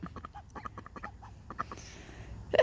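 Call ducks quacking in a backyard garden pen, a series of short nasal calls in quick succession, fairly close and moderately loud, with a brief louder burst at the end.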